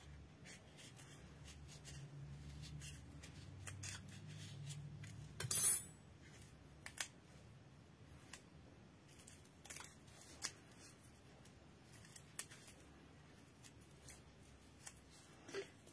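Scissors snip through leftover craft material at close range, one sharp crisp cut followed by a series of quieter, irregular snips and light handling rustles in a quiet room.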